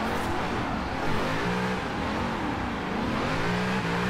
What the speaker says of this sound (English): We just smoked the tires going uphill